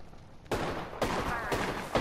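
Video game gunfire: four loud, evenly spaced shots about half a second apart, each a sharp crack with a short ringing tail.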